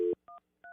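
An office phone keypad sounds three crisp dialing tones: one longer tone, then two short, evenly spaced beeps with silence between them, clear and close.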